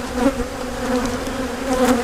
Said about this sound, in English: Ooh, we got the bee stirred up.